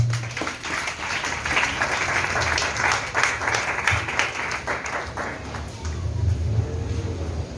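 A church congregation applauds and cheers for the Lord, with dense, sustained clapping filling the room, loud and continuous, and some voices mixed in beneath.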